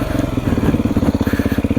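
Close, loud Beta motorcycle engine stuck in first gear, a rapid rhythmic thumping putter that holds steady with no shift.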